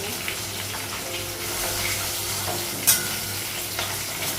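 Fish frying crisp in a pan of hot oil, a steady loud sizzle with bright spattering crackle throughout and one sharp pop near the end.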